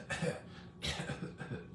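A voice imitates a hacky, dry allergy cough, giving three short raspy bursts in quick succession, close and fairly quiet.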